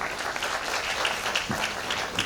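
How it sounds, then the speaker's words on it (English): A short burst of clapping from a crowd, steady and moderately loud, with no speech over it. "she deserves a round of applause"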